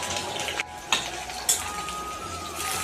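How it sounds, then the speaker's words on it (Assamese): Onions with green chillies and ginger fry in oil, giving a soft continuous sizzle punctuated by a few clinks and scrapes of a utensil against the pan, close up and without speech. "এতিয়া ভাজি আছোঁ, ফ্ৰাই কৰি আছোঁ পিঁয়াজ"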